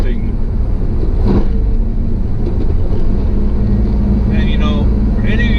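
A supercharged 1995 Pontiac Firebird Trans Am with an LT1 V8 blips its throttle in a heel-toe downshift, a loud rumbling engine under a brief sharp rev flare, heard from inside the car.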